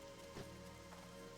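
Soft, steady rain patters continuously in the Feralas zone of World of Warcraft, a faint even wash of raindrops.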